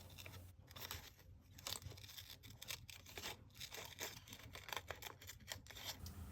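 Scissors snip through paper while cutting out collage pictures, a steady run of close, crisp cuts and soft rustles, quiet and continuous, with no voices.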